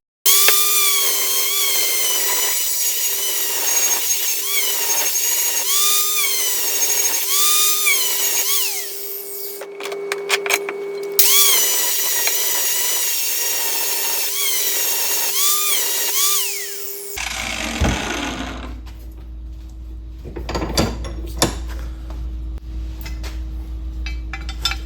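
An 80 grit flap disc grinds a lawn mower blade clamped in a vise, giving a loud, steady high-pitched whine with rising and falling pitch sweeps, a brief pause midway, then the grinder spinning down into quieter clatter.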